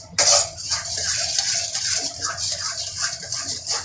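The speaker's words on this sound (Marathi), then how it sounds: "हे चांगलं मिक्स करून परतून घ्यायचं आहे." Masala with a spoonful of homemade spice mix being stirred and sautéed in a pan, a steady frying sizzle under repeated clinks and scrapes of a spoon against metal, close and fairly loud.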